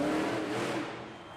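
A Monster Jam monster truck engine roars loudly in an indoor arena during a 2023 Evansville, Indiana competition, a steady throaty rumble that eases slightly toward the end.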